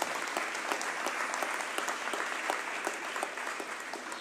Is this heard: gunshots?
no